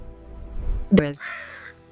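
A wild black crow gives one loud, harsh caw close by, following a low murmur of background sound, then trails off into quiet.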